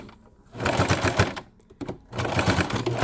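A sewing machine stitching fabric for a 3D mask makes a close, rapid clatter in two short bursts separated by a brief pause.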